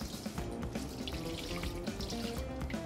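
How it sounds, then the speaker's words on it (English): Tap water runs into a colander of tofu in a sink, a steady close splashing stream with uneven spatter as the block is rinsed, no talking. "put it in a colander, and you can rinse it with some water just to get all the liquid off"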